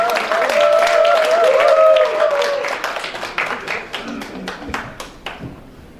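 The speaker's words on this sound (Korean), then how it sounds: "큰 박수로 환영해 주시기 바랍니다" Audience clapping in welcome for Seoul Gangnam-gap National Assembly member Seo Myeong-ok at a forum event, a dense burst that thins into scattered individual claps, with a voice speaking over the start.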